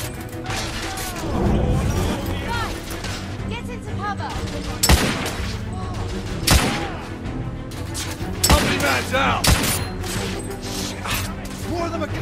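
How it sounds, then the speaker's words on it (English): Heavy gunfire in the Victorian-era shooter The Order: 1886 rattles in dense bursts and fusillades with sharp impact cracks and crashes, loud and close, over a continuous battle din. "I'm taking heavy fire!"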